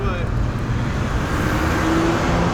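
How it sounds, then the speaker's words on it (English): A car engine and road noise drone steadily and loudly from a moving vehicle, with another car following close behind during a city ride. "We got a car behind us."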